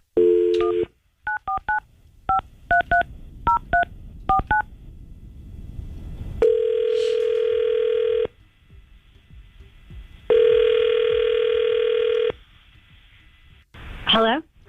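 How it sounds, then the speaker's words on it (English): A phone call is placed from a radio studio, starting with a quick series of touch-tone dialing beeps. Two long ringback tones follow, separated by a pause, and talk runs faintly underneath. "We are going to try to call Kara right now and see if we can get her on the phone."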